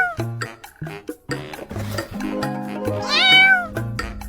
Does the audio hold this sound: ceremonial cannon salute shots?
no